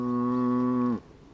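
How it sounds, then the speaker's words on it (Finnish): A large cow in the Swiss countryside near Lucerne lets out a single loud, steady moo lasting about a second, close by, before it stops abruptly into quiet background. "Onpa se iso lehmä, vähän ehkä isompi kuin meidän"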